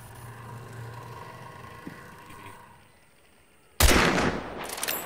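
A single loud gunshot in the Hunt: Showdown video game fired at a yellow barrel, a sharp burst after a quiet stretch with a lingering rumbling tail, preceded by faint ambient game sounds.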